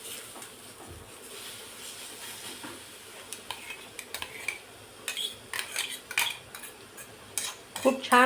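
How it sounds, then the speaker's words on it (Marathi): Raw mango chutney mixture stirred in a pan with a spoon: intermittent metallic scrapes and clinks that grow louder and busier toward the end, close up, with no talking. "आणि आता हे मिश्रण टाकायचं आहे, जे आपण कैरीचं वाटून घेतलेलं आहे ते टाकायचं यामध्ये।"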